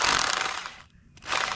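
Loud grinding bursts of a power drill boring at a slight angle into a concrete slab, cutting out briefly in the middle before the harsh rattling drilling resumes.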